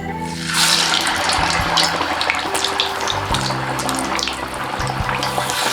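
Rice vadai sizzle and crackle as they fry in hot oil, a loud, dense hiss carrying on without a break and overlaid with sharper popping bursts close by.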